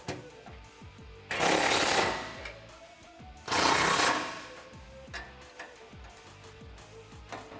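Ratchet wrench with a 16mm socket tightening mounting bolts on a stainless steel Barricade oval bull bar on a 2016-2019 Toyota Tacoma, heard as rapid close ticking clicks with two longer bursts of ratcheting mid-clip.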